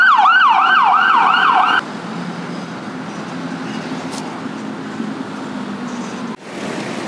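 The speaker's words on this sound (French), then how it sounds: "J'ai l'ambulance qui approche derrière moi." An ambulance siren wails loudly on a street in Lampang, Thailand, its rising and falling tone cycling for about two seconds before cutting off, leaving low traffic rumble and engine hum behind.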